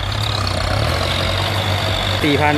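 A Massey Ferguson MF5710 tractor's 4.4-litre turbocharged four-cylinder diesel idles steadily and close by, a low continuous rumble with a voice speaking over it near the end.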